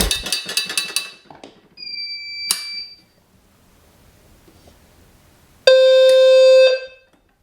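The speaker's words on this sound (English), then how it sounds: "That low frequency sounder is actually pretty loud." A low-frequency fire alarm sounder blares loud, steady and alone for about a second during a full system test on a new panel, after earlier scattered electronic chimes and alarm tones.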